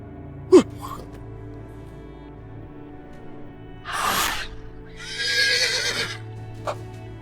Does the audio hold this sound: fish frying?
no